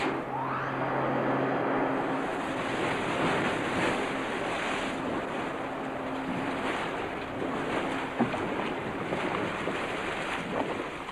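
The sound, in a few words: water ride pumps and cascading water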